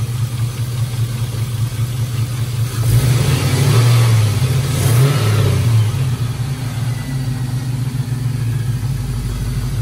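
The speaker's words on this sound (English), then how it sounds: "Sounds like it's got a lifter tick" An LS-swapped 1966 Chevrolet C10 pickup with a lifter tick runs close by, its steady low idle swelling into a brief rev partway through before settling back, with no voices over the engine.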